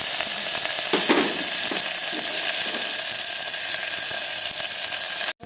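Bay leaves and dried chillies fry in a little oil for vegetarian khichuri, giving a steady close hiss with a few stirring scrapes early on, continuous and fairly loud, ending in a sudden clunk.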